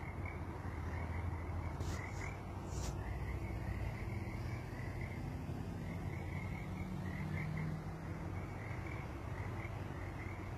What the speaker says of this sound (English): Can you guys hear the frogs?